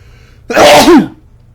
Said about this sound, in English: Feel a sneeze coming.